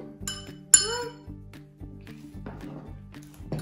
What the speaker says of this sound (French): Et après, vous remuez.